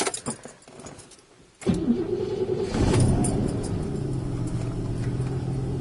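A Rover SD1 car engine cranks and catches after a quiet, rattly lead-in, then settles into a steady, close running rumble.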